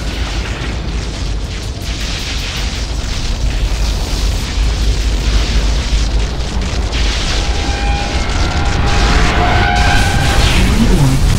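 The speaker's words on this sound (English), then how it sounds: "Blue core destroyed." A blue power core explodes in an Unreal Tournament 3 Warfare match on the Floodgate map, a loud, sustained booming roar that runs the whole stretch with dense rumble, building slightly toward the end amid other game effects.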